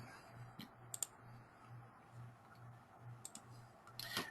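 A computer mouse gives a few soft, isolated clicks in a quiet room, sparse and close, with a small cluster near the end.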